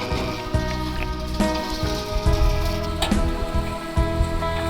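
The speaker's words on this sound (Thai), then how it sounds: "ฝนตก" Steady rain falls on surfaces outdoors on a misty day, a dense continuous patter with scattered louder drops and drips, close and fairly loud, with no voices.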